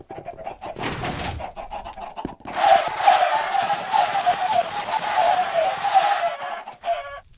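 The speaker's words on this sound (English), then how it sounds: "Here's all the chickens, dancing around, happy as can be." Chickens in the video game Minecraft cluck repeatedly in quick, busy bursts, fairly close and lively, with a brief pause before the clucking resumes.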